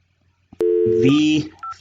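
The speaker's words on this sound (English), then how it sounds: "let me see the phone. I'm going to call." A telephone number is dialed on a touch-tone phone, a few quick beeps at close range, with a voice briefly present.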